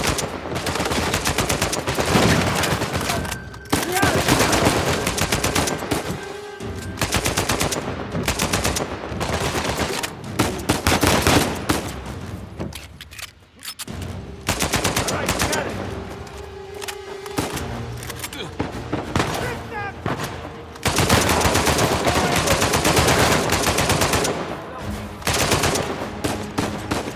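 Turret machine gun fire in Uncharted 4, long loud bursts of rapid automatic shots with brief gaps and impacts, mixed with shouting voices and other gunfire.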